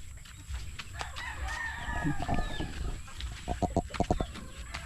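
A hen clucks in a farmyard among other chickens, with short, repeated calls and some higher bird calls, fairly close and with no voices.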